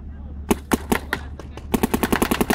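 Dye M2 paintball marker firing a rapid string of sharp pops, first spaced single shots and then a quick even burst, loud and close over a steady low hum.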